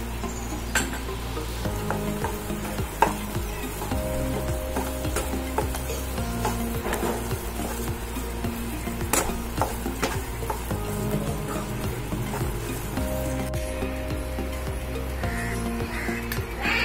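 Moong dal halwa cooking in ghee in a pan, with steady sizzling under repeated scraping and stirring strokes at close range.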